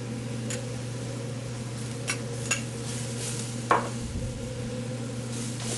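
Chili ingredients, including chipotle, being stirred and sautéed in a pot, a steady low sizzle with a few scattered scraping knocks of the spoon against the pot, no voices.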